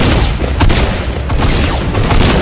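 Sniper rifle gunfire in a first-person shooter video game: a loud, dense burst of booming shot noise and crackle that fills the whole moment, with no talking.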